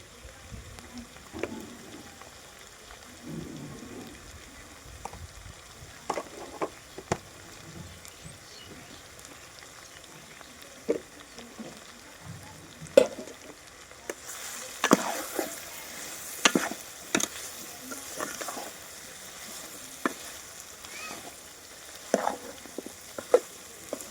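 Yam pieces frying in oil for a village-style curry, a soft continuous sizzle with scattered clinks and scraping stirs, growing busier partway through.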